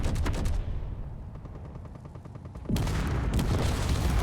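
Spaceship weapons in Conflict Europa Alpha fire in rapid repeated bursts, a dense rattling barrage that fades briefly and then returns louder and closer.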